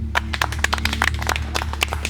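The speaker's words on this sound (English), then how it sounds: "I'd like to have a big round of applause for the final three" A round of applause for the final three on a pirate-themed show: steady clapping at moderate level, sharp scattered claps over a continuous low hum, with no talk.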